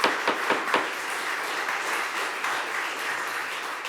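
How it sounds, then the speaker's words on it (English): Audience at a planning commission meeting in Pacifica applauding, with a few sharp claps at the start giving way to a dense, steady round of clapping throughout. "please try to restrain the clapping"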